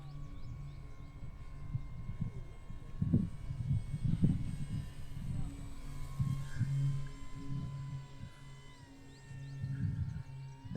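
A Dynam P-47D Thunderbolt RC model airplane flies on a hot day with a buzzing electric drone that swells and fades as it passes, moderately loud at a distance beneath a constant low hum.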